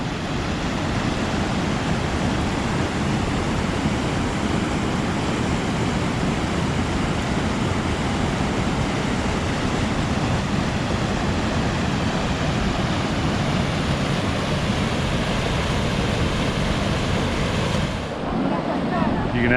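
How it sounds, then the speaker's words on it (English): Waterfall in Zion National Park, a steady, loud broadband roar of falling water with mist drifting nearby, continuous for nearly the whole stretch before dropping off briefly near the end. "You can actually feel there's mist blowing over here from that waterfall"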